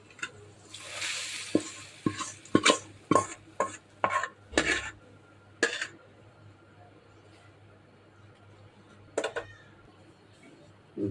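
A spoon stirs garlic and onion frying in a pan of dal, giving a series of sharp metallic scrapes and clinks in quick bursts, then sparse taps, close and fairly quiet over a faint background.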